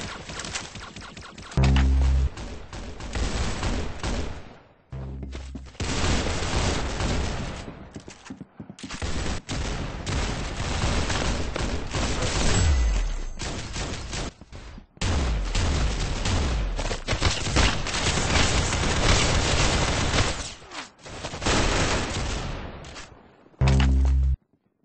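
Gunfire in the Roblox game Arsenal: loud, dense, continuous bursts of rapid shots with brief gaps, filling the whole stretch with no talk.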